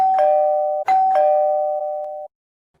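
A doorbell chimes twice in quick succession, each a clear ding-dong tone that rings out and decays, close and loud, then silence.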